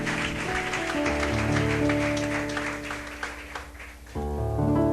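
A church congregation applauds to welcome first-time visitors during a service, a steady wash of clapping blended with sustained music, fairly loud and continuous and easing briefly before the music swells again.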